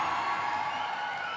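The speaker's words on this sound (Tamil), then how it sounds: "ஸ்னேகாக்கு ஒரு பெரிய கைத்தட்டல் கொடுத்துடலாம்ப்பா." Audience applause at a PS1 launch event, a dense, steady wash of clapping from a crowd, fairly loud and continuous for a brief moment.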